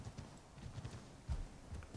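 A horse's hooves clop in a quick, uneven rhythm in the video game Assassin's Creed 3, faint and a little distant, with one heavier hoof strike standing out.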